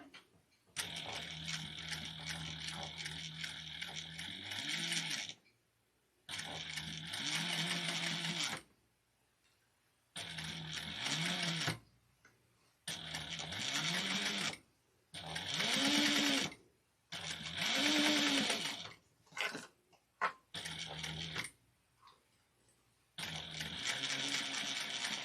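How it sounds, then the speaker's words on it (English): Sewing machine stitching a handbag seam at a 3/8 inch allowance, running in about eight steady bursts of rapid stitching separated by short pauses, close and clear with no talk. "And then I would bring it over to my machine and sew at the 3/8 of an inch."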